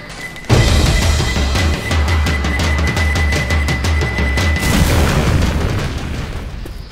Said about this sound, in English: Pipe bomb out!